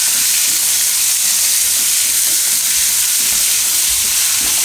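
Onion frying in hot oil with a pinch of asafoetida sizzles in a steady, loud, continuous hiss, heard up close without any talk, for a Gujarati mango and bitter gourd curry.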